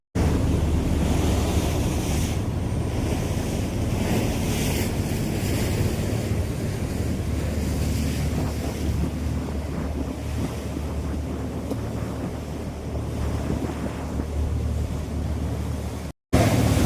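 A speedboat cuts through the sea off the Maldives, heard as a steady, loud rush of water and wind noise with a strong low rumble that holds without a break.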